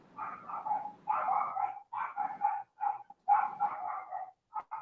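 A dog barks in repeated bursts, loud and fairly close, with short gaps between volleys and a few yips, no talk over it.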